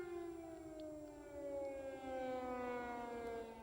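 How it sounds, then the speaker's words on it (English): An air raid siren wails over Kyiv during wartime shelling, a steady distant tone slowly falling in pitch, faint but continuous and alone with no voices. "Sunrise in the capital has become synonymous with the sound of gunfire"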